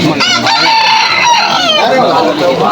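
A rooster crows loudly and close by at a rainy outdoor pet market in Malolos, with clucking fowl around it and a busy background of other birds.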